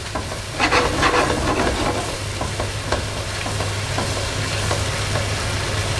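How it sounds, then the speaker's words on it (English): Spice stirred through sweated onions and garlic in a hot pan for a chicken tagine: steady sizzling and hiss with repeated scraping strokes of a spoon against the pan, close and clear, no speech. "time to add that spice. Give that a good stir through."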